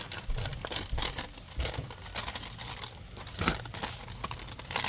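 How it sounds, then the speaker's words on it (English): Junk mail paper being folded by hand, giving repeated soft crinkling and creasing rustles close up, alone with no talk. "let's fold this way"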